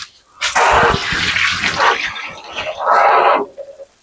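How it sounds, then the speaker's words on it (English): Hands being rinsed under a running kitchen tap while a country meal is prepared: a steady splashing gush of water that starts and stops, with a brief pause midway before a second stretch of flow. "I'm gonna go ahead and rinse my hands"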